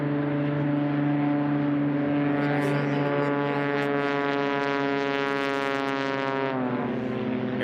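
Cessna 182 light aircraft racing in a STOL drag heat, a steady loud propeller-engine drone with strong harmonic tones, holding near and constant before the pitch drops slightly at the end.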